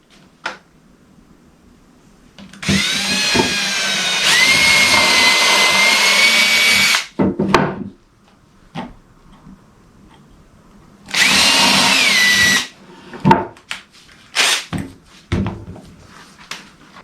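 A power drill drives screws into a wood stud during a quick woodworking build, with several sustained whirring bursts of a few seconds each, separated by short clicks and knocks of handling.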